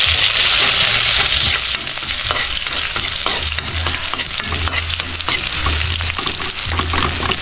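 Garlic and onion sauté in a pan, sizzling steadily while a utensil stirs and scrapes in quick, irregular strokes close by.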